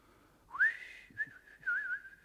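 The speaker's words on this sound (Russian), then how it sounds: "А он уселся рядом и стал негромко насвистывать." A man sitting close by quietly whistles a tune in a few short, soft, wavering phrases separated by brief pauses, with a couple of faint knocks in between.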